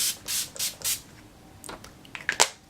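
Several soft hissing bursts of a makeup setting spray misting onto a face, first a few steady puffs, then quicker, sharper sprays near the end, close by.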